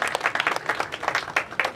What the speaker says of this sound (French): Acclamez très fort pour le chef de l'État.